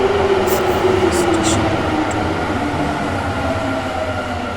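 A train pulls into a station in the horror video game Anomaly Horror, a loud, steady rail rumble with a thin squealing tone that eases off slightly toward the end.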